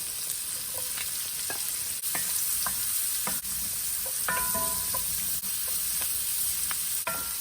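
Cabbage with red pepper fries in bacon stock, a soft steady sizzle with a spoon scraping and stirring in the pan, small clinks and knocks scattered throughout.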